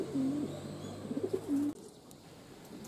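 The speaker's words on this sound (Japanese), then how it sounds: "遠征に行った鳩が今戻ってきて一部降り始めました。" Racing pigeons coo softly as they return to their loft, several low, rolling calls over the first half before the sound drops to quiet outdoor ambience.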